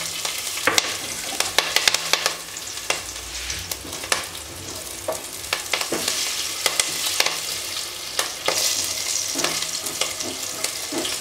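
Green chillies fry in a pan for Punjabi rajma, giving a lively hiss full of sharp pops and crackles that burst irregularly throughout. No one talks over the sizzle.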